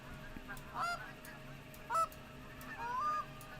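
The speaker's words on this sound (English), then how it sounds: "I see 3 flocks of geese." Geese in a hunting video game honk three times, separate clear calls spaced about a second apart over quiet game ambience.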